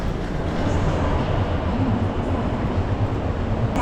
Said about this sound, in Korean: 고속기차가 갔고요